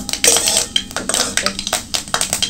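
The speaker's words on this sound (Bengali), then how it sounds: "ফোড়নটা একটু নাড়াচাড়া করে ভেজে নেব।" Cumin and mustard seeds tempering in hot oil in a wok, stirred with a utensil that scrapes and clinks against the metal in quick repeated strokes, loud and close.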